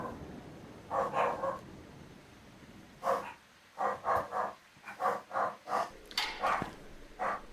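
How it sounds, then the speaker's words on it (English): Dogs bark in the background behind a ghost-hunting game session, a series of faint, evenly spaced barks that come in clusters and then a steady run of repeated yaps. "there's gonna be a little bit of barking in the background"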